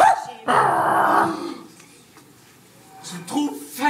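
Performer in an improv show imitating a dog, with a loud, rough growling bark burst followed by quieter vocal sounds and a short yelp-like ending.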